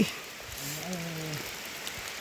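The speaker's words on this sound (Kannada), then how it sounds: "ಮಳೆ ಬಂತು" Rain falls steadily outdoors on a nature trek, a continuous soft hiss of drops across the whole stretch with no talking.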